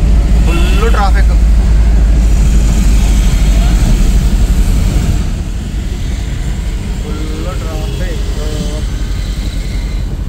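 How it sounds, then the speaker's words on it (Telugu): Heavy road traffic at Panjagutta: a loud, continuous low rumble of engines with a few brief horn-like tones rising above it near the start and again later. "Full traffic."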